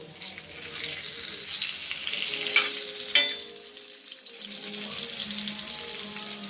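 Barracuda fish pieces roast in coconut oil in a pan, giving a steady close sizzle with a couple of sharp clinks from utensils partway through.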